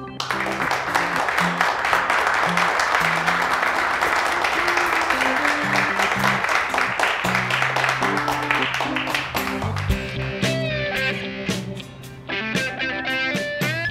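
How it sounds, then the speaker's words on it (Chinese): A group claps together for a demonstration at a martial-arts training club. The applause is dense and steady, running the whole time with music beneath it. "鼓掌。"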